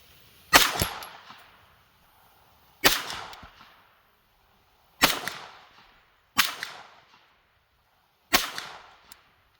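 Five sharp, loud gunshots from a Sig MPX 9mm carbine, evenly spaced about two seconds apart, each with a short crack and a quick decaying echo, and no talking.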